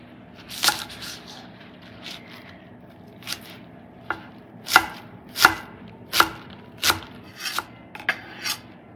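A knife cuts an onion into half-moons on a board, about a dozen sharp chopping strokes at irregular intervals, close and clear with no talk.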